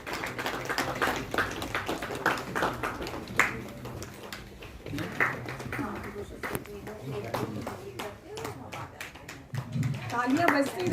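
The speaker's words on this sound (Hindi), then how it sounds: "तालियां बजती रहे।" Audience clapping at a national organisational meeting, a dense patter of hands continuing under and between a presenter's voice as names are called out.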